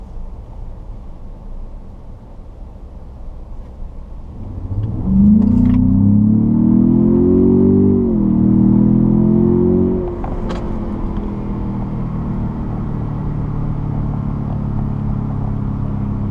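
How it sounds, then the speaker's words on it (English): A 2017 Ford Raptor pickup's engine surges into a strong acceleration from 20 in sport mode, its pitch climbing steadily and holding high revs before settling into a steady drone; no talking. "See how it holds the revs up when you're in sport mode"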